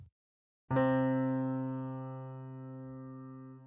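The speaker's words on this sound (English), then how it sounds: "we hear a pure interval, we know it's a perfect consonance" A sustained two-note perfect consonance interval rings out after a brief pause, a clean steady electronic-sounding tone that slowly fades over a few seconds.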